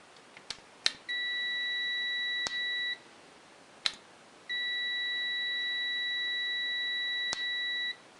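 A multimeter on its continuity alarm setting, used while testing parts on a Polaris 400L ATV, gives two long steady electronic beeps of about two and three seconds, each set off by sharp probe clicks, clear and alone.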